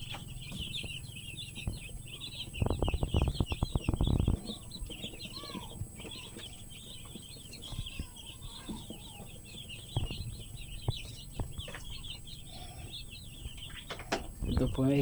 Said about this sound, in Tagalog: Yan po yung manukan namin.